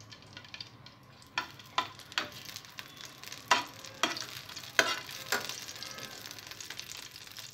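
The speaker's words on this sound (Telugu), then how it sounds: "ఆయిల్ వేడిన తర్వాత పచ్చిమిరపకాయలను ఫ్రై చేసుకోవాలి." Green chillies fry in hot oil in a pan, a quiet background sizzle broken by a series of sharp stirring scrapes and spits, close by and fairly faint, with no talking.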